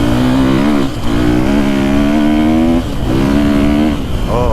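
A Husqvarna FE450 four-stroke dirt bike is ridden hard, its loud engine droning close with rising revs, brief dips between gear changes and climbing again, continuous and alone.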